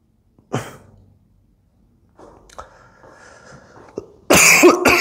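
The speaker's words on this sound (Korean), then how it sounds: "기침 왜 또 많아졌지?" A single cough up close, a quiet stretch, then a sharper burst of coughing at the end, with brief faint vocal sounds between.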